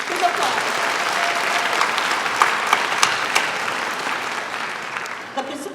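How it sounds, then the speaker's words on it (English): Sustained applause from a large audience at an evening AAPI Heritage Month celebration in San Francisco, honoring Polynesian dancers. Steady clapping fills the room throughout, with a few sharper claps and whoops standing out, then thinning slightly at the end. "How about another round of applause for the dancers from the Legacies of the Pacific and Keaka Polynesia group"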